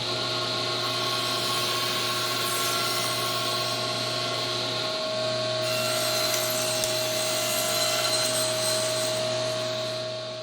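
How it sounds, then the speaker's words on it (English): A table saw trims wooden console-table parts to final length in a woodshop: a steady, loud motor whine and blade hum runs throughout with no clear cutting bursts, no voices. "I'm going to trim them to final length here on the table saw"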